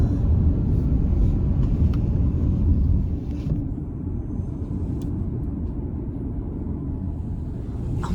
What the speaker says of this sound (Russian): А машины так и тянутся, слушай, вообще нескончаемый поток.